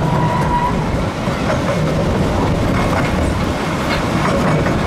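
A small train carries riders on a lap around a lake at Billing Aquadrome, its wheels rolling and clattering steadily over the rails with a continuous loud rumble and faint squeals.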